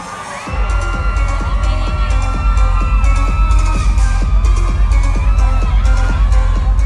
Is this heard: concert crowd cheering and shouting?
yes